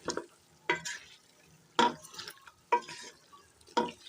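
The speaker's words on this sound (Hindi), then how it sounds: "फुल फ्लेम पे बीफ को हमने अच्छी तरह से फ्राई कर लिया है माशाल्लाह" Beef chunks frying for nehari on a full flame, stirred in the pan, with a quiet sizzle under sharp scraping bursts that come roughly once a second.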